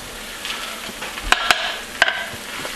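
Cream of mushroom soup is stirred into sausage dressing with a soft, wet mixing sound, broken by a few sharp clicks of a spoon against the pot.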